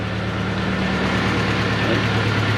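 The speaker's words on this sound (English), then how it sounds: "Yeah, she's idling pretty rough" A 1993 Ford Ranger engine idling rough on a half-and-half mix of old and new gas, with a suspected miss: a loud, steady low drone with a constant hum, close by and without breaks.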